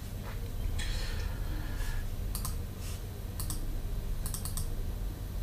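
A computer mouse clicks in short, crisp bursts, including quick double clicks, while someone browses a movie list in the iTunes Store. The clicks are close and light over a steady background hiss, with no talking.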